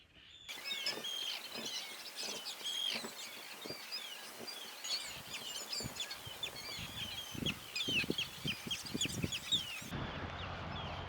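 Chickens cluck and squawk continuously on Grímsey Island, Iceland, several birds close by, with scattered sharp calls and rustling throughout.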